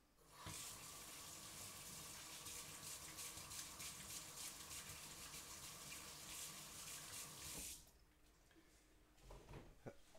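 Tap water runs steadily into a sink while fingers are rinsed under it, a continuous close gush lasting several seconds before it is shut off, leaving quiet handling sounds.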